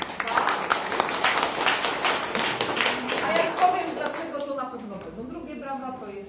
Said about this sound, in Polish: Brawa dla Państwa!